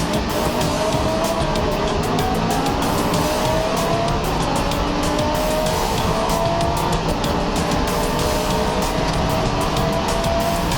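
GT3 race car launching from the grid in a Pirelli World Challenge race, with loud sustained engine roar, rising gear pulls and tire squeal, and several cars close by throughout.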